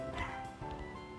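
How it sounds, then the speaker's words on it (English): A dog barks a few quick, faint yips in a quiet home kitchen, distant and brief. "so excuse my dog barking"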